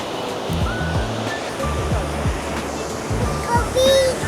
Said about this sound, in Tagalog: It's a big waterfall, right?